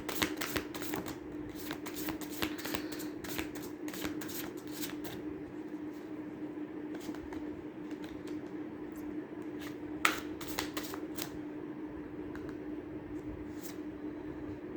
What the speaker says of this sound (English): I'll be pulling out one card for your for that question